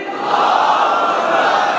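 A large crowd at a Muharram majlis roars back in unison, a dense sustained collective shout filling the whole moment at close range.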